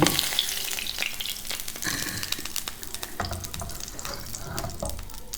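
Oil sizzles and crackles steadily in a hot frying pan close up, with scattered pops and light scraping of a utensil, as eggs fry.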